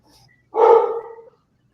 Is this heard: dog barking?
yes